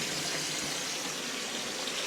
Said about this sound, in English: Guess I got to get some more water in there.